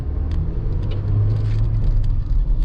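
Inside a Mercedes-Benz A-Class on a test drive, a steady low road and engine rumble fills the cabin, with a faint whir and small bumps throughout.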